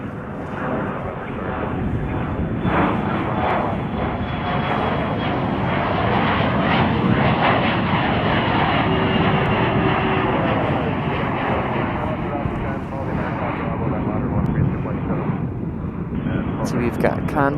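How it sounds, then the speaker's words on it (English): Airliners taxiing at Chicago O'Hare airport, a loud, continuous engine roar with wind buffeting the microphone and people talking throughout. "United making their moves down the taxiways."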